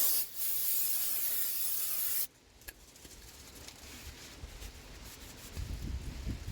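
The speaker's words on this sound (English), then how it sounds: "Let's give our rotor a quick clean." Brake cleaner hisses in a steady spray for about two seconds onto the rotor of a 1991 third-generation Camaro, then cuts off, leaving faint rubbing and handling sounds close by.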